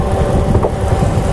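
A Subaru Legacy B4 with a turbocharged EJ206 engine runs with a steady, loud, close rumble that holds an even drone throughout with no voices.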